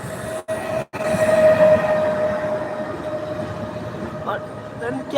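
A train rumbles past close by in Małopolska, Poland, a loud sustained roar with a faint high whine, after two brief dropouts at the start.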